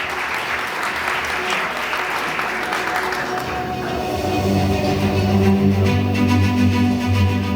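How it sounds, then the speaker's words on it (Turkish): Audience applause fills a hall during an award ceremony at the TAYF International Short Film Festival, dense and steady throughout, swelling slightly louder toward the end with music entering underneath. "Sayın Doçent Doktor Nagihan Çater Vikiç alkışlarınızla ödülü vermek üzere sahneye geliyor."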